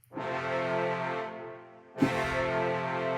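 Two sharp, accented marcato brass chords from an orchestral sample library, one at the start and a second punchier hit about two seconds later, each sustaining with a full, bright tone.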